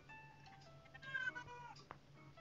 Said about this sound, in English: that's my cat Alice.